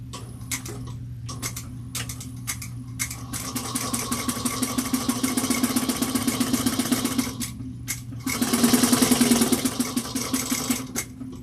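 A sewing machine stitches a seam along one side of a bag divider at a 3/8-inch allowance, its needle chattering in a steady fast rhythm that rises in speed and loudness near the end before easing off.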